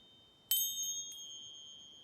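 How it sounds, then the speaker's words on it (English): Small bells give two or three light, delicate tings that ring on and fade softly in a quiet space. "So I have these little bells."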